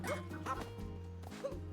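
Dog barks and yips from a video game, a few short bursts at about 0.1, 0.5 and 1.45 seconds over steady game music, no talking.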